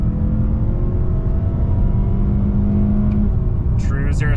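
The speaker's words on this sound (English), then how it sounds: "Engine sounds really good." Engine of a 2023 Mazda CX-30 Premium with the 2.5-litre four and 6-speed automatic accelerating hard from a brake-held launch, a steady loud drone from inside the car with no break, and a light chirp near the end.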